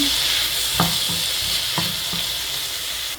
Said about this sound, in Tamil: இப்போ பாருங்க, உப்பு மஞ்சள் தூள் எல்லாம் போட்டு மிக்ஸ் பண்ணிட்டேன்